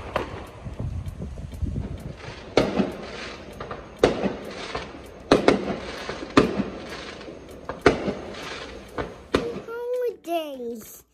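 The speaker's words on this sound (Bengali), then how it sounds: "আর বাসায় আসতে আসতেই দেখলাম শুরু হয়ে গেছে আতশবাজি, নতুন বছরকে স্বাগতম জানানোর জন্য।" New Year fireworks in a Florida neighborhood, a rapid string of sharp, loud bangs and crackles echoing at medium distance, with people talking and a voice between blasts, and whistling rockets near the end.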